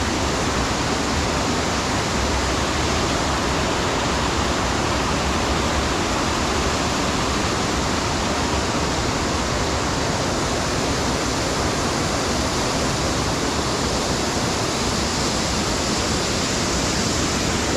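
A waterfall about 10 to 15 feet high in a wooded spot, recorded near its base: a loud, steady, unbroken roar of falling and rushing water with no talking.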